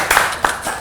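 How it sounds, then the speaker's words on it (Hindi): Studio audience clapping for guests on a Hindi talk show, a short, close burst of hand claps with a voice briefly underneath. "जोरदार तालियां."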